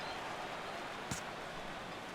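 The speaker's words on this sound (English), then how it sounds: "Rain continues to fall here in the sixth." Rain falling on a baseball stadium in the video game MLB The Show 17, a steady soft hiss throughout with one brief tap near the middle.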